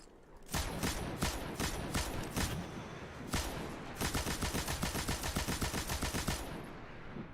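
Heavy machine gun fire in the video game Destiny 2, rapid sustained bursts with short gaps, then a long continuous volley, loud and close with no talking.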